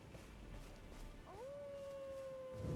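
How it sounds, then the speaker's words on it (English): Blaidd, a half-wolf in the Elden Ring video game, gives a single long howl that rises sharply and then holds a steady pitch. It sounds faint and distant over quiet ambient noise. "Listen close so we can hear that howling."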